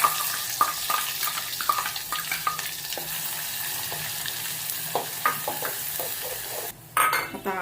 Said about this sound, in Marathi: मसाला आपण तेलामध्ये छान परतून घेऊया